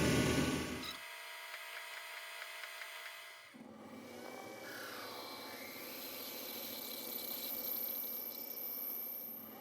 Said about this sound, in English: So I'm going to drill in here about 3/4 of an inch.